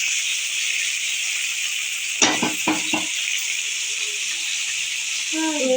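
Chopped tomato sizzles steadily in oil in a pan, a bright constant hiss, while a utensil scrapes and clatters through it in a short burst of stirring strokes.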